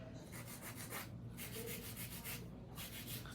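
Acrylic nails being filed and shaped at a nail salon, a steady scratchy rubbing in repeated strokes with brief pauses, close and alone.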